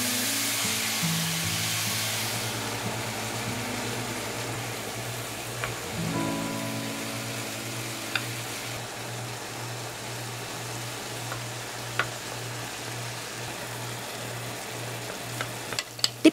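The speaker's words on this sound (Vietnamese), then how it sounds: "Đợi cho dầu nóng một chút thì mình cho nấm vào áp chảo cho nấm mềm hai mặt" Enoki mushrooms pan-frying in hot oil, a continuous soft sizzle with faint crackles and occasional light utensil taps, alongside a steady low hum, fairly quiet and without speech.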